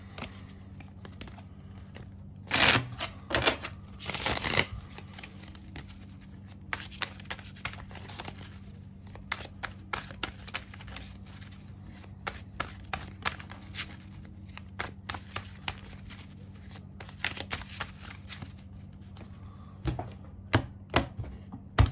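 Tarot cards being shuffled and thrown, with bursts of riffling early on followed by many scattered sharp slaps and flicks of cards landing nearby, no talk.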